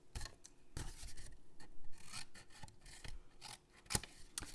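Scissors cut up score lines in cardstock for a diagonal closure treat box, a close run of crisp snips and rasping paper slides with a sharp snap near the end.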